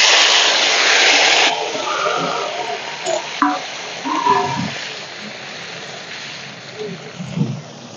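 Chopped onion and tomato hit a hot pan already holding whole cumin and a dried chili, bursting into a loud sizzle that settles into softer, steady frying with faint stirring and intermittent voices.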